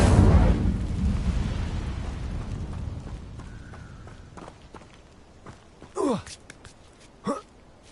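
Incendio fire spell cast in Hogwarts Legacy: a loud burst of flame and a roaring whoosh at the start that fades over a few seconds, followed by a couple of short sharp swishes later on.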